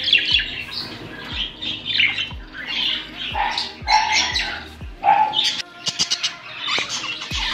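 African lovebirds in breeding pairs give repeated sharp, harsh squawks and chirps close by, in irregular bursts with brief pauses.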